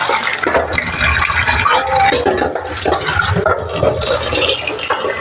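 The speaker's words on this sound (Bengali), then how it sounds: "এটা আমি ভালো করে কচলিয়ে ধুয়ে নেব।" Food being rubbed and washed by hand in a container of water, with continuous sloshing, splashing and squelching close by, busy and uneven throughout.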